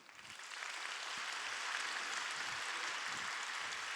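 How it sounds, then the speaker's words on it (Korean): A church congregation claps in welcome for visiting guests during a worship service, a dense, steady wash of many hands that swells in over the first half second and holds evenly, with no talking over it. "한번 잠깐 웰컴 박수를 한번 해드릴 수 있을까요?"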